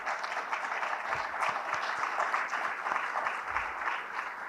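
Audience applause from a conference crowd, a steady mid-level clatter of many hands clapping continuously throughout with no speech over it.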